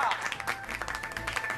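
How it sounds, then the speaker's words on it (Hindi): Applause from the audience at a Hindi TV serial is brief and moderately loud, with a crowd clapping briefly while a voice talks over it. "एक बार मोहिनी भाभी के लिए जोरदार तालियां।"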